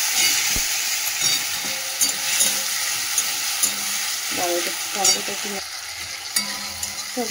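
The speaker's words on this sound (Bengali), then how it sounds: "একটু টমেটো আদা এগুলোকে একটু ভেজে নিলাম" Tomato, ginger and green chili fry in a pan with spices, giving a steady close sizzle broken by stirring scrapes and clinks.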